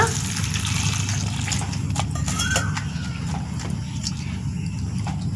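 Garlic cloves soaking in water in a kitchen bowl, with a running, splashing pour of water and light clinks and knocks over it, fairly close and continuous for a few seconds without speech.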